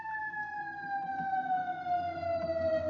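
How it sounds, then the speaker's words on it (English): A wailing emergency siren outside, its tone slowly falling, heard at a moderate distance under low background rumble. "If you hear that siren, it's nothing to do with me."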